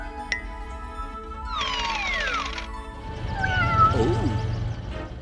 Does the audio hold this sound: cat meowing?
yes